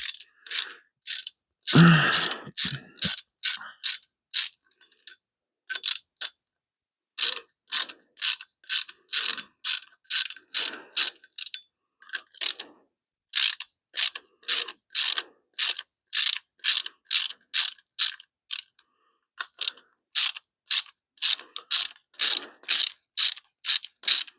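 A ratchet wrench clicks rapidly in repeated bursts while nuts are backed off the studs of a clutch pedal assembly on a 1975 Hemi Plymouth Duster, close and loud, with brief pauses between runs.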